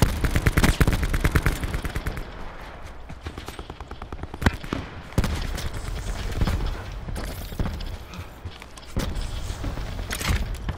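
Call of Duty Black Ops 4 Blackout gunfire, with dense rapid automatic bursts up close at first and then intermittent loud single cracks and shorter volleys over a steady background roar.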